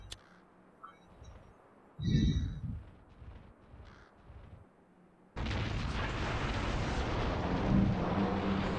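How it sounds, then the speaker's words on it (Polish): In the video game Hidden & Dangerous Deluxe, after a quiet stretch with a few crow-like caws, a bridge explodes in a sudden loud blast that erupts into a sustained roaring rumble carrying on to the end. "podziwiać jak most będzie wybuchał"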